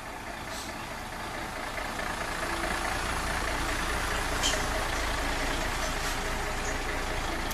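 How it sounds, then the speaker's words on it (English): A lorry drives past on a street in Oxford, its broadband engine rumble and road roar swelling steadily over several seconds, fairly faint and constant, with no talk. "Now wait till there's a lorry going past."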